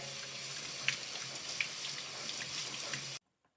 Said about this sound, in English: Then you have to wash them.